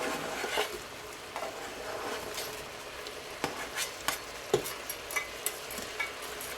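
Garlic, onions and carrots fry in a pot with a soft, continuous sizzle, broken by sharp clicks and scrapes from a utensil stirring against the pot that grow more frequent toward the end.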